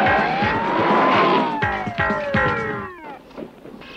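A car brakes hard with its tires skidding: a loud squeal sweeps down in pitch over a rough scrubbing rumble and breaks into shorter chirps before fading to near quiet.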